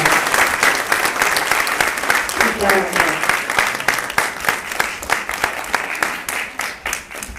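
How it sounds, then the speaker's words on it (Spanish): Audience applause fills a hall at the Villa Angela museum anniversary celebration, sustained, crackling clapping throughout with a brief voice audible partway through, close and loud. "Fuerte el aplauso por ese detalle para la mamalicia"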